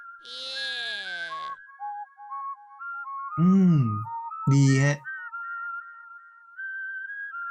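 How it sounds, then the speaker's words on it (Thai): Whistling from the Tenor character in the Incredibox Sprunki game, a melodic tone line of rising and falling notes running through the clip, broken by two short voiced interjections and a brief bright burst near the start. "คุณเทเนอร์อ่าผิวปากของเขาฮะ"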